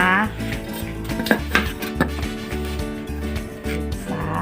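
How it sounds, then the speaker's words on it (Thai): A lid set on a pot for steaming wrapped fish parcels, with metallic clinks and clatters of the pot and utensils amid a low background hum while someone speaks. "นี่เลยแล้วก็ปิดฝานะคะ"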